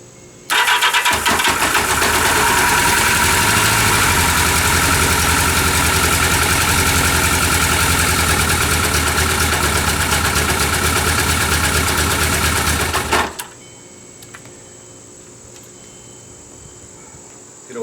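A 1979 Yamaha XS1100 motorcycle engine runs loud and steady at a fast idle with the choke half on for about twelve seconds, then cuts off abruptly, leaving a faint background hum.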